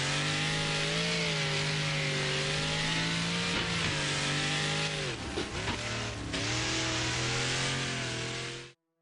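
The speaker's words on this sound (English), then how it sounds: "That's a fun little car to drive, dude." A small car's engine revs hard and steadily in a Wreckfest race on PS4 Pro, its loud, buzzing drone rising and falling with gear changes and brief dips, with tire and impact noise mixed in, no talk.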